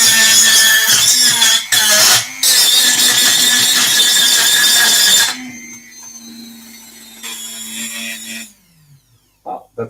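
A handheld rotary tool drills into a print, giving a loud high-pitched whine with brief interruptions. It then cuts off and spins down for a few seconds, and faint noises follow.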